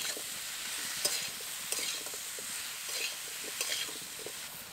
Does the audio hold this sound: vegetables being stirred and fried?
yes